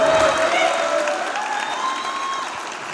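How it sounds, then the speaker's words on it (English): An audience at the Liberty Theater gives a poet another round of applause during a live reading. A dense burst of clapping starts loud and gradually thins, with a few voices calling out. "Yeah, give her another round of applause."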